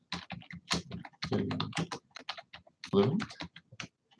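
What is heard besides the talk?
typing on a computer keyboard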